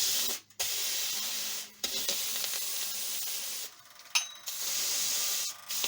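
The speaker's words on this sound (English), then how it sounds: "Just until the sizzle is almost gone." Heated carbon bookbinding fillet wheel being cooled, giving a soft, faint hissing sizzle that runs in several stretches broken by short silent gaps, with no voices.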